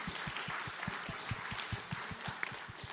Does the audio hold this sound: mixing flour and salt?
no